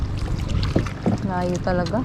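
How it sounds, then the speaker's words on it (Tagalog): A rowboat is paddled on windy open water, with splashy strokes and rumbling wind buffeting the microphone, while a person talks over the paddling. "Kapagod magsagwan kasi mahangin."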